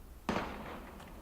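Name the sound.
gunfire in Valkyria Chronicles video game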